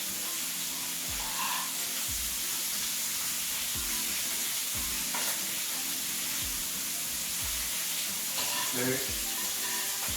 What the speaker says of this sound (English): We're gonna add some collard greens. Gonna add some sauteed veggies.